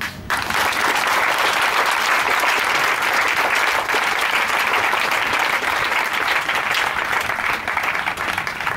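A church congregation bursts into sustained loud applause with dense, continuous clapping that fills the room, starting abruptly and holding steady throughout.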